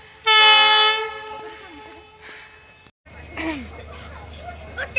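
A train waits at a railway platform and sounds a loud, sustained horn blast near the start, followed by quieter station bustle, rumbling and scattered voices around the carriages.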